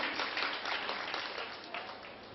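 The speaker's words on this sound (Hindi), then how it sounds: "एक बार तालियां बजा दीजिए" Audience applause at a poetry gathering (kavi sammelan) in Shamli, a soft, steady wash of many hands clapping heard from a distance, fairly faint and continuous for a couple of seconds.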